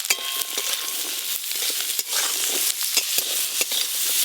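Potato and onion frying with dried chili in a pan, a steady close sizzle broken by scraping stirs at irregular moments, with no talk.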